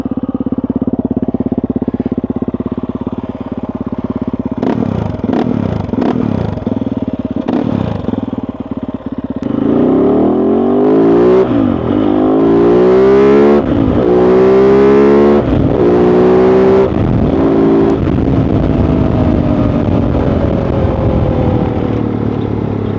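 A Kove 450 Rally single-cylinder motorcycle starts and idles, then revs repeatedly in loud, close, rising and falling blips before settling back to a steady idle, with no talking.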